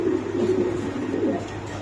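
Pigeons in a pigeon dealer's loft cooing, a soft low rolling coo repeating continuously over a close, steady background without talk.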